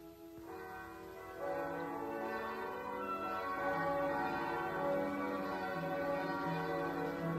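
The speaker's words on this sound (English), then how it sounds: "Bells. Why are they ringing?" Church bells ring out in a rich, overlapping peal, the tones swelling as more bells join and then sustaining steadily, with no voices heard.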